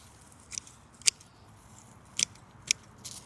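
Garden shears trim a catmint plant in a north Toronto garden, giving four or five sharp, separate snips spaced irregularly against quiet outdoor background.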